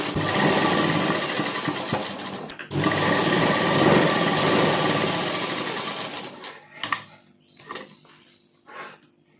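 A sewing machine stitches a kurti sleeve onto fabric in a loud, fast, steady whir for several seconds, with a brief pause. It then slows into a few short bursts and clicks.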